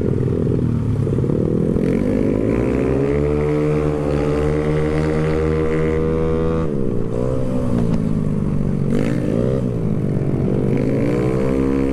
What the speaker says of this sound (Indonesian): Ada motor NMAX nih, knalpotnya racing, filter.